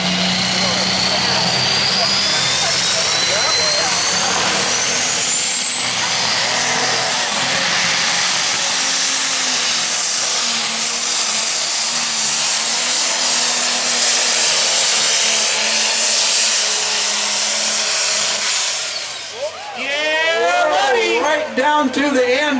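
A pro stock diesel pulling tractor roars loudly and steadily down the track at a power pull national event, its engine note rising and straining for a sustained run, with commentators talking over it.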